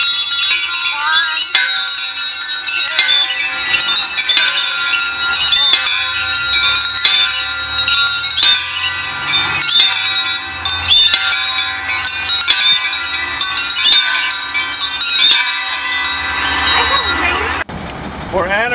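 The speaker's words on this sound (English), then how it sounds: "could we ring our bells 11 times?" Many bells clang and ring together in a dense, continuous shimmer, with repeated strikes throughout and a brief dip near the end.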